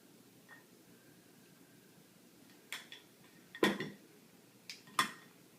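Green chili going into a pot on the boil, with a few sharp metal clinks and scrapes of a spoon against the pot spread over quiet background hiss.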